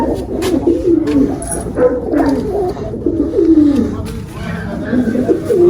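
Pigeons coo repeatedly in soft, throaty rolling calls close by, several birds overlapping, with faint background noise.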